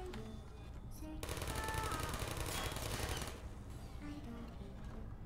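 Rapid automatic turret fire from Portal 2, a dense sustained burst of mechanical shots rising in the middle and then tapering, with game sounds around it and speech also present.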